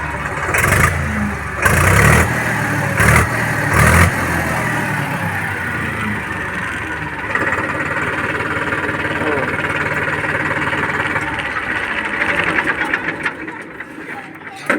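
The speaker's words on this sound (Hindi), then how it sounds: "आप ट्रैक्टर की आवाज़ सुन के आप जान सकते हैं कि इस प्रकार का ये ट्रैक्टर है" A Powertrac Euro 47 50 HP tractor engine starts with a few loud cranking bursts, then settles into a steady, close mid-pitched idle that runs for most of the span.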